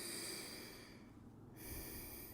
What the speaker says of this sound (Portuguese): A última respiração aqui.